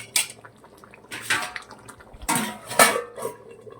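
Pepper chicken gravy being stirred in a metal pot and then covered with a lid, heard as a few sharp metallic clanks and scrapes separated by quiet moments.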